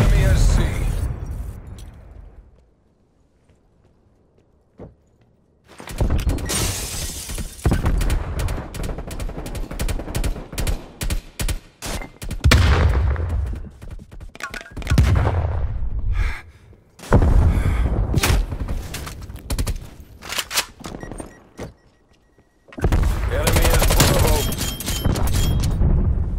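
Incoming artillery explosions in Call of Duty Black Ops Cold War, loud repeated booms and bursts of gunfire in rapid clusters, broken by a quiet lull, with in-game radio voices heard between blasts.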